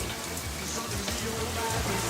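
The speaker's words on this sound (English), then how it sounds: "this was Rio after relentless rain had flooded the city" Heavy rain pours down steadily in Rio de Janeiro during a flood, a dense, continuous wash of drops hitting surfaces with no pauses, loud and close.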